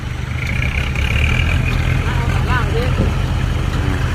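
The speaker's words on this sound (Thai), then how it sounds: "กำลังจะเปลี่ยนตำแหน่งรถไถนะครับ" A tractor engine runs steadily near a dump truck stuck in sunken mud, a loud low rumble throughout with someone talking over it.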